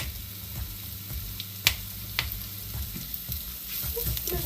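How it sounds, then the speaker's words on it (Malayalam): A finely chopped medium onion sautéing in a pan, a continuous close sizzle with occasional sharp clicks and taps from stirring, and no talking. "നന്നായിട്ട് നമുക്ക് വഴറ്റിയെടുക്കാം"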